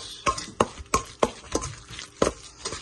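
A spoon mixes food with a dab of salad cream in a bowl, making a series of about eight sharp scraping taps in an irregular rhythm, close and fairly quiet, with no talk.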